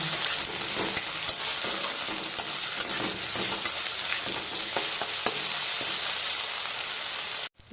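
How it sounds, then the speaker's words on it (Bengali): A paste of garlic, ginger and green chilli sizzles loudly and continuously in a hot pan while a spatula scrapes through it with occasional sharp ticks, close up and without speech. "এই মশলাটাকে দিয়ে ভালো করে কষিয়ে নেব"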